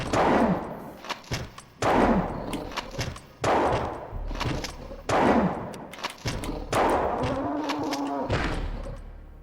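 Gunfire in the Countdown Vampires video game repeats as heavy booming shots, roughly every one and a half seconds, each followed by a decaying rumble, loud and close.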